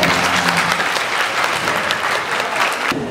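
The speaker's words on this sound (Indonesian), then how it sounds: "tepuk tangan buat" Audience at a religious study gathering held by Mayangkara Group with Gus Iqdam breaks into dense, loud applause that continues steadily throughout, close and full, ending with a slight drop at the close.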